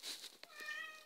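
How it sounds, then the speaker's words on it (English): A house cat gives a short, clear meow, a single drawn-out call with a brief break midway, heard close and alone indoors. "I think your cat just meowed."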